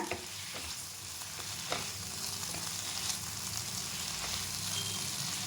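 Tomatoes sauté in a pan for tomato chutney, a steady close sizzle and crackle lasting the whole time, with faint stirring clicks and no talking.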